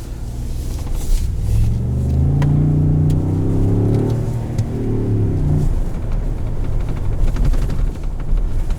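A 2021 Ford F-150 Platinum pickup accelerates hard in sport mode, its engine note climbing loud and close through the gears before easing into a steadier rumble.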